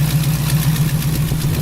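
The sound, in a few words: 1968 Chevy Camaro built 350 engine running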